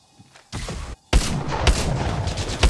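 Video game gunfire crackles in two loud, dense bursts, a brief gap separating them, with sustained rattling shots filling the second half and no speech.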